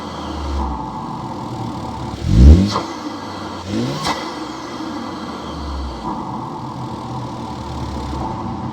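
A cold Ford Focus RS MK3 fitted with a COBB intake idles steadily, then takes two short, mild revs to about 1,500 rpm, the engine note rising and falling before settling back to a low idle, recorded close up.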